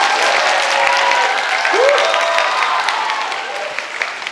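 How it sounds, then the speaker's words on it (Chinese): An audience applauds warmly in a hall to welcome Lin Chi-ling on stage, a dense even wash of many hands clapping that holds steady throughout, with a faint voice briefly audible underneath. "请大家用最热烈的掌声"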